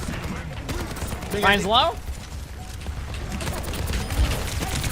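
Rapid video game gunfire crackles in a dense burst. A voice speaks briefly over it, and the busy game mix continues underneath.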